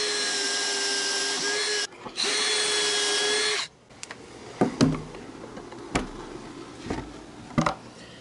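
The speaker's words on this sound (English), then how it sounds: "I'm going to go ahead and drill on my actual board" A power drill whirs loudly in two sustained bursts, drilling pocket holes in a wooden board with a Kreg pocket hole jig, then stops, followed by scattered knocks and clatter of wood being handled.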